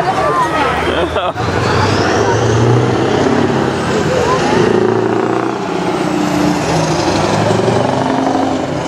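A truck at the Truckstar Festival rumbles loudly nearby and brakes, with hissing and a falling whine over heavy engine noise, while people talk under the sound.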